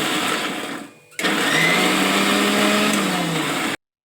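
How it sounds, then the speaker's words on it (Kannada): A kitchen mixer grinder blitzing ginger, garlic and green chillies: a loud, steady high whir that dips into a short pause near the start, then runs on evenly before cutting off abruptly. "ಇವು ಮೂರನ್ನು ಮಿಕ್ಸಿ ಮಾಡಿದೆ."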